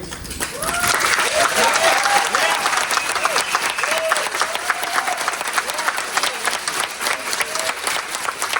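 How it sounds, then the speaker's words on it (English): Sustained applause from a crowd at a regional planning commission meeting, loud and steady throughout with cheering voices mixed into the clapping. "Once again, here's the applause from that night."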